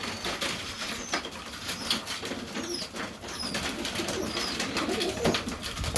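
Serbian Highflyer pigeons in a loft in Melbourne, Australia, coo steadily alongside soft flutters and shuffling, a busy, close, continuous murmur with no talk.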